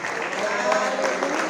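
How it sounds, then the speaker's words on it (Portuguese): A church congregation claps during a Sunday morning service, a dense, continuous patter of many hands, with voices mixed in. "Será que você pode aplaudir ao Senhor?"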